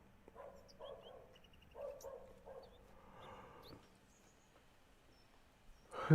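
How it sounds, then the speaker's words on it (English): A dog in the video game The Excavation of Hob's Barrow barks several short times in a row at moderate distance, then goes quiet against a soft ambient backdrop with brief bird-like chirps. "Dog be barking."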